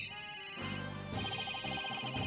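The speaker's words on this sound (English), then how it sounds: "Where's that ringing coming from?" A phone ringing in Ace Attorney Dual Destinies, a repeated electronic ring tone sounding in short bursts over quiet game background music, with nobody talking.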